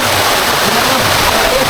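Balite Falls in Amadeo, Cavite pours down in a loud, steady rush of water that masks any other sound, close and unbroken throughout.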